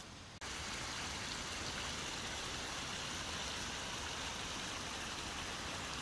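A creek flows beside a hiking campsite, giving a steady, fairly faint rush of water that runs without a break after a brief quieter start.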